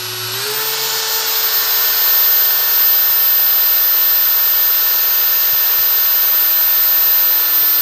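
A 4-inch 20V NRT PRO TG 99DC cordless angle grinder spins up at the start, then holds a loud, steady high-pitched whine with no talk.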